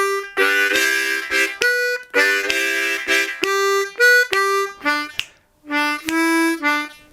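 Blues harmonica lick played on draw notes, a phrase of sustained, bending reedy tones in short bursts with brief breaths between, close and loud, solo with no talk.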